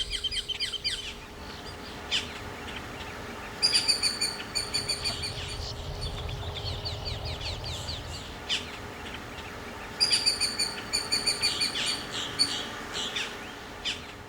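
Many birds chirp and trill near the brackish bayou marshes along Louisiana's Creole Nature Trail, with bursts of rapid high calls over a soft, constant outdoor background.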